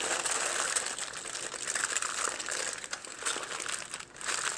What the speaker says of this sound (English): Now you want to get the foil right mushed up against the meat